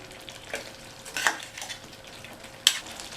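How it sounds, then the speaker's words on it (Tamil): Baby potato gravy with garam masala is stirred in a pan: a quiet low simmer broken by three scraping spoon strokes, the last one sharp and near, with no voices. "சேர்த்ததுக்கப்புறம் நல்லா ஒரு தடவை மிக்ஸ் பண்ணி விட்டுருங்க"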